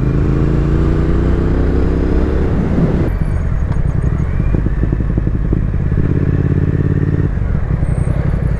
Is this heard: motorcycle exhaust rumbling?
yes